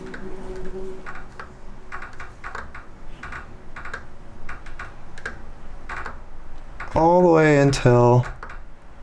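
Trim buttons on a radio-control transmitter for a 105-inch Extreme Flight Santiago Scheme aircraft click again and again in a steady, light rhythm. Someone briefly talks over the clicking near the end.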